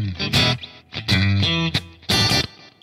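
A heavily distorted electric guitar through a Spark amp with compressor settings plays a few loud, sustained chords with abrupt stops between them, thick and compressed in tone.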